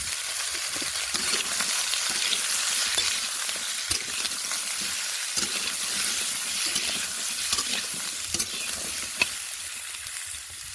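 Chopped vegetables with fennel, nigella and mustard seeds sauté in a hot wok, a continuous loud sizzle with scraping stir strokes and occasional knocks of the spatula, no voices.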